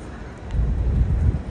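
Strong wind buffets the microphone outdoors as a storm approaches, a brief low rumbling roar that swells and stays heavy to the end.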